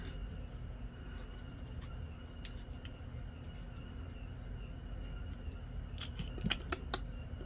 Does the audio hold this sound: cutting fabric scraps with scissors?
yes